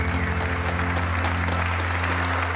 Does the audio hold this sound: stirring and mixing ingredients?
no